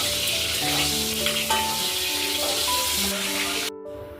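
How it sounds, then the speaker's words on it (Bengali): Eggplant slices fry in a pan with a loud, steady, close sizzle. The sizzle runs without a break and then drops off sharply near the end. "বেগুন মশলার জন্য মা বেগুনগুলোকে ফ্রাই করে নিচ্ছে"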